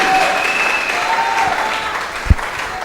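Church congregation clapping for the Lord during a deliverance sermon, a steady broad wash of applause with a short whistle-like tone, fading slightly toward the end, capped by a single sharp thump.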